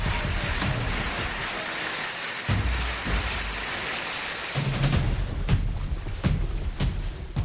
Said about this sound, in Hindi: अहमदाबाद में पिछले 2 दिनों में तेज हवा के